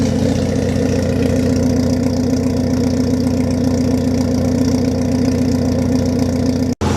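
A Volkswagen Vento's engine idles steadily at close range, a continuous low, even rumble with no revving and no voices.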